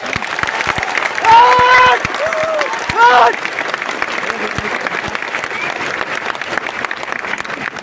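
An audience at a Hindi-language talk breaks into strong, sustained clapping that fills the room from start to finish, with a voice briefly heard over it.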